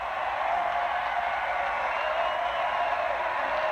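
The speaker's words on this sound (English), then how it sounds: "The crowd loving it." Crowd noise at a 1992 baseball championship game after a leadoff double, a dense, steady roar of cheering and applause at a distance.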